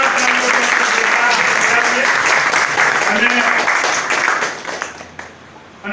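A crowd gives loud, sustained applause at a retirement farewell ceremony for the irrigation sub-division office in Junagadh, with voices mixed in. The clapping fades away near the end.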